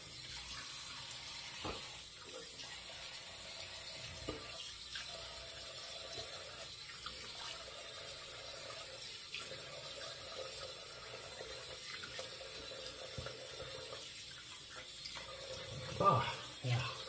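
Water runs from a bathroom tap for rinsing after a shave, a soft steady flow heard at moderate distance with small splashes and handling noises, and a brief louder splash near the end.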